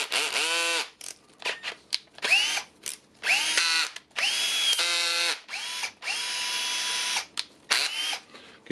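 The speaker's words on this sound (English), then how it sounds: "We have perfectly working drill" A Milwaukee M12 12V cordless drill with a newly replaced motor, after the old one burned out, whirs in a series of short bursts that spin up and wind down, some brief and some held for a second or more, with nothing else heard.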